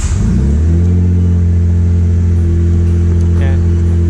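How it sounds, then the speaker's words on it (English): A Mitsubishi Galant VR4, just repaired for a misfire with new spark plugs, cranks and fires up. A brief start burst settles into a steady, loud, close idle rumble with a strong low hum. "only thing that's left to do is check if the car actually starts"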